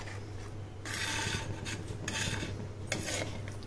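Ground coconut paste is stirred together with water, giving soft scraping and rubbing strokes in a few bursts over a low steady hum, fairly faint and close.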